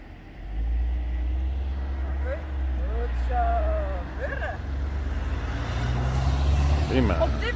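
Cars approach and roll past on a road, a steady low engine and tire rumble building gradually and staying fairly loud, with faint bird chirps and a little speech above it.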